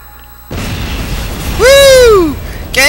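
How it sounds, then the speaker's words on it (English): An explosion in the Borderlands video game bursts in loud after a quieter opening, followed by a rising-and-falling tonal whine and a second sharp burst at the end. "I lived through an explosion! I heard that blast all the way over here!"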